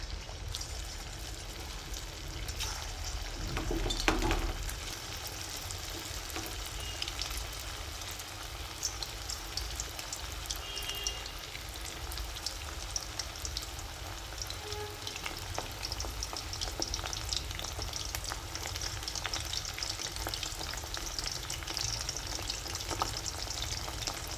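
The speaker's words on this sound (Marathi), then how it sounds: "आता इथे तेल तापलं आहे. आता आपण हे जे फिश आहे कोटिंग करेल ते टाकून घ्यायचे आहे." Coated basa fish fries in a pan of hot oil, a dense steady sizzle and crackle throughout with a brief louder splash as pieces go in, close and with no talking.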